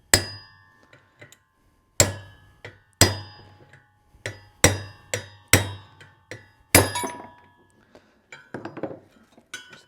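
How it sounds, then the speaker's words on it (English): Sharp metal strikes of a hammer driving a chisel into the parts of a rolling cultivator during a rebuild, about eight separate ringing blows with gaps between them, followed by a cluster of lighter clinks near the end. "Thought I'd see if I could get the rest of this off with a chisel."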